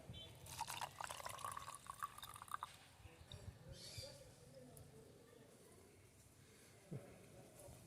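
Water mixed with sand poured through a sieve to separate the two, with pouring and trickling in the first few seconds, then quieter drips and handling noises, close by in a small room.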